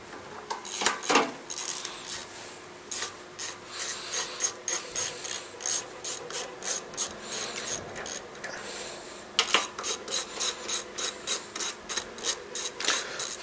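Bolts being tightened by hand on a Predator 420cc engine during a charging coil upgrade, with quiet repeated ratcheting clicks and metallic scraping in uneven bursts, close and faint, no talk.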